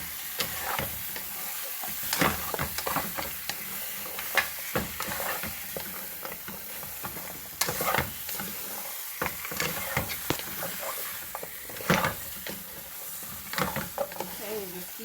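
Curry cow foot with butter beans sizzles in a pot as it is stirred, giving a hissing fry broken by irregular scraping and clattering stirs, while a person talks intermittently.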